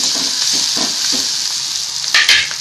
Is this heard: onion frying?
yes